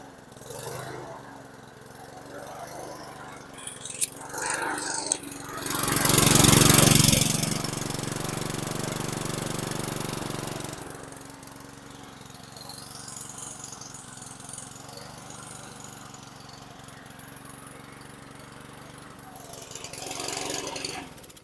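A small pull-start lawn mower engine sputters to life after cleaning with carb cleaner, roars loudly for a couple of seconds, then settles into a rough running drone while a voice talks over it.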